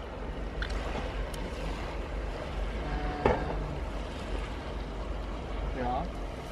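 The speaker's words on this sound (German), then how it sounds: "Der Wind kommt schon langsam" Steady coastal wind at Capo Drepano in Greece rushes and buffets across the microphone in a constant broadband roar, with a brief knock partway through and a faint voice in the background.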